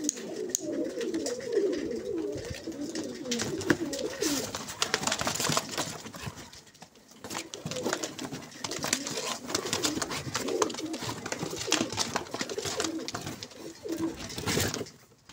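Several Iraqi pigeons of an old breed coo in soft, repeated throaty phrases, close by, with a brief lull midway before the cooing resumes.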